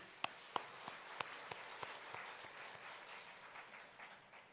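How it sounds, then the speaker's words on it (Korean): Congregation applauding during a church sermon: a loose scatter of individual claps over a soft, sustained wash of many hands, fairly quiet and distant. "하나님께 박수를 영광."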